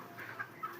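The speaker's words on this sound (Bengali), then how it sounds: "এই যে ওখানে মুরগিটা দেখুন" Chicken clucking nearby, a few short, faint clucks in quick succession over quiet background.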